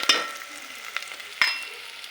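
Mutton fries in hot oil in a pan with a steady, close sizzle. Two sharp stirring scrapes stand out, one at the start and one midway, each followed by a brief rise in the crackle.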